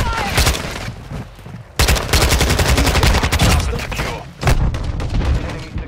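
Rapid automatic gunfire in a third-person video game shooter's objective-capture match, loud sustained bursts with brief pauses between volleys, chaotic and close.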